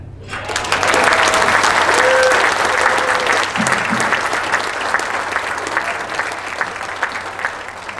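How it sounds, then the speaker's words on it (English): Loud sustained applause from a luncheon audience at an Honor Flight Nevada community and partners event, swelling quickly and holding steady for several seconds before easing slightly. "if you guys can make a big round of applause for the Landis Casino"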